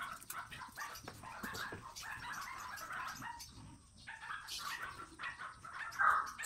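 Several dogs bark in the morning at a home, with repeated yaps and whimpers at middling distance, while birds and roosters call faintly in the background.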